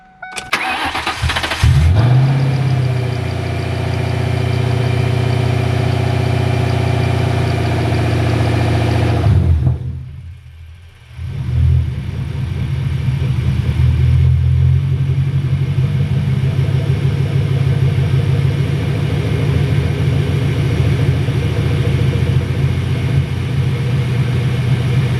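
A Ford SN95 Mustang Cobra engine cranks and catches into a loud, steady idle, stumbles almost to a stop about ten seconds in, then recovers and settles into an even, rumbling idle.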